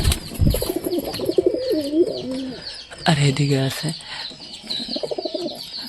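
Pigeons coo close by in a cage in low, rolling calls while a person talks over them.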